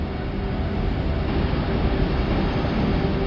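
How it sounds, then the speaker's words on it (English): Winds on Saturn's moon Titan, recorded by the Huygens space probe during its descent: a steady, dense, low rushing roar of constant loudness throughout, with no voices. "The sound of the winds from a tiny moon nearly 1 billion miles away."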